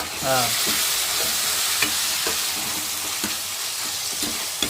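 Tomatoes fry in a pan with a constant dense sizzle, close and loud, punctuated by occasional light scrapes and taps of a spatula, no one speaking.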